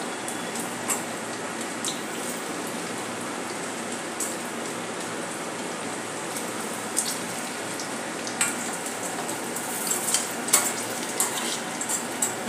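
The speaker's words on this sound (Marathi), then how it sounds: "आता आपण यांना तळून घेऊया" Sabudana vada fry in hot oil with a steady, dense sizzle throughout, broken by occasional sharper pops and spatters, close and unaccompanied by speech.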